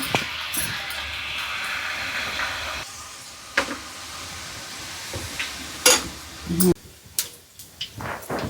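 Corn mixture dough pressed into hot oil for frying, giving a broad sizzling hiss that fades after a few seconds, with scattered clicks and knocks and a voice talking intermittently.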